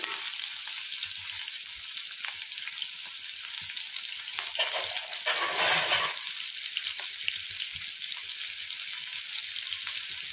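Cumin seeds and onion fry in hot oil for a North Karnataka style brinjal dish, a loud continuous sizzle with a brief surge of bubbling hiss midway, heard close and without talk.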